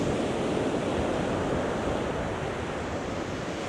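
Sea surf breaking on a UK beach during a fishing match: a steady, close, full roar of waves with wind buffeting the microphone, continuous throughout with no voices.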